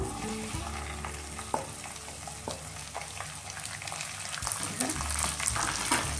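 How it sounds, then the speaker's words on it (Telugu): Okra frying in a pan after tempering, a steady close sizzle with occasional stirring knocks, the hiss growing louder toward the end. "ఇప్పుడు ఫ్రై అయిపోయాయి కదా పోపులు, బెండకాయలు వేసుకుందాం"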